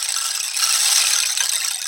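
Foley rain patters on hard surfaces, a dense, hissing spray of fine taps heard alone for about two seconds at an even, fairly loud level.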